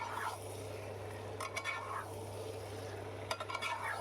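Jackfruit pieces are stirred and fried with spices in a pan, with a soft background hiss broken by a few bursts of scraping from a spoon against the metal.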